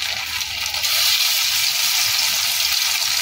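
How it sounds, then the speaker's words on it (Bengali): Battered paneer pieces frying in hot mustard oil, a loud, close, steady hiss and crackle that holds evenly for a few seconds before stopping abruptly. "এই ব্যাটারের মধ্যে চুবিয়ে চুবিয়ে ডুবিয়ে ডুবিয়ে একটা করে আমি দিয়ে দেবো।"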